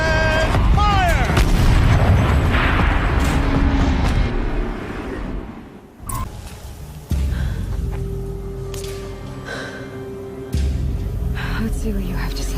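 A machine turret firing in Horizon Zero Dawn, loud booming blasts with rumbling tails and whooshing, followed by quieter mechanical rumble and later bursts, heavy and close, with speech-like voices mixed in.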